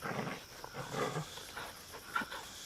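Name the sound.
dogs barking in a film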